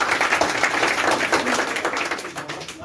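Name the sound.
classroom applause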